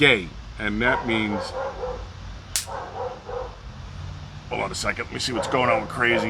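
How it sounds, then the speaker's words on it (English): A dog gives an alarm bark indoors: sharp, loud, repeated barks in quick bursts at the start and again near the end, with someone talking between and over them. "That's our alarm bark."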